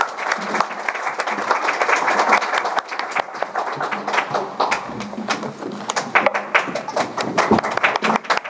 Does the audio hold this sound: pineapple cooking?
no